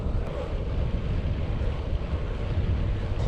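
Wind buffets a cyclist's microphone on an exposed road in western France, a loud, continuous low rumble with gusty fluctuations throughout and no voices.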